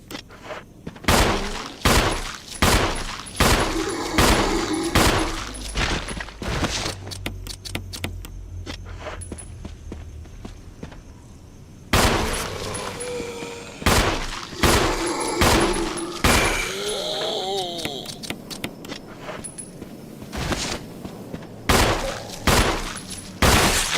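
Rapid bursts of handgun shots from the Resident Evil 1 HD Remaster video game, crisp repeated cracks in quick clusters with short pauses between volleys, plus occasional clinking and metallic clatter.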